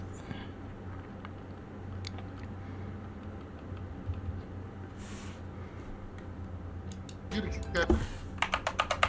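Keys clatter on a computer keyboard in quick irregular bursts, faint at first and growing into dense rapid typing near the end, with low background noise.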